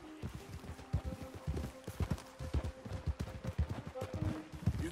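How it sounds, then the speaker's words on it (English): Horse hooves clip-clop in the video game Red Dead Redemption, a quick, steady run of close thudding hoofbeats with faint tonal game sounds in the background. "Horses are faster than walking,"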